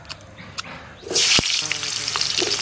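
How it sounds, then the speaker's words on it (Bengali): Potatoes fry in hot mustard oil, opening with a few faint clinks before a loud, steady sizzle comes in at close range and carries on with crackles and a sharp utensil tap, no talk. "সর্ষের তেল দিয়ে দিচ্ছি। আলুটা আমি ভেজে নিচ্ছি।"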